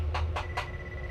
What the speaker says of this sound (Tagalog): Once na may nare-receive po siya, tumutunog yan. Parang nag-a-alarm.